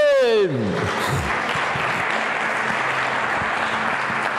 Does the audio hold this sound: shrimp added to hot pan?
no